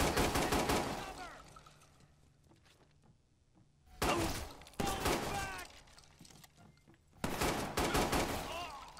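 Gunfire in the game Watch Dogs 2, coming in three heavy bursts of rapid shots with a quieter lull between them, loud and close and mixed with voices.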